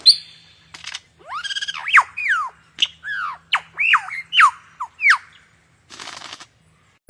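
A lyrebird imitating other birds' calls: a close, loud sequence of varied squawks, whistles and sweeping chirps in quick succession, ending with a short burst of noisy rasping.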